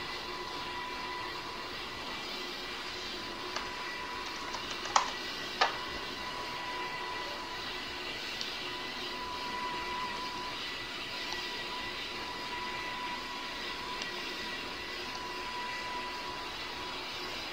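Steady simulated jet engine drone of an Antonov An-225 on landing approach in the Roblox flight game PTFS, a constant hum with a few brief clicks, no voices.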